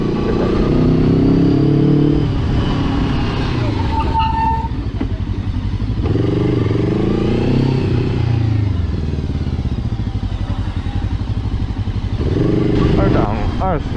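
A new Hanway YP500 motorcycle being ridden, its engine droning steadily close up with rising and falling revs through the gears, while a rider talks over it throughout.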